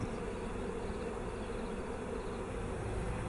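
A dense swarm of honeybees, holdouts clustered up in a tree near their hive, drones in a loud, steady, continuous buzz that never lets up.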